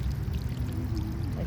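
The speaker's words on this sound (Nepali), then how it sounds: "4 चोटि पानी हाल्छ यो ठाउँमा यसरी पाइपको सहाराले" Water from a pipe pours steadily onto flower pots set on a cornice, a continuous low splashing gush heard close and alone for a short moment.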